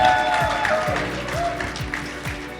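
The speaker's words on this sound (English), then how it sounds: "Could you please give them a huge round of applause, everyone?" An audience at a panel discussion event claps for the panelists, a short burst of applause with music playing underneath.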